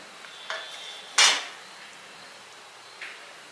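A spoon scrapes and clinks against a metal pot a few times as chili paste is stirred in, quiet and close, with no talking.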